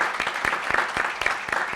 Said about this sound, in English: A round of applause to my panel for a very engaging discussion